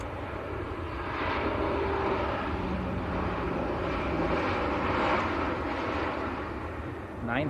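A Ryanair Boeing 737-800 jet at Manchester Airport gives a continuous broad engine roar that swells gently and holds at a moderate distance without pause.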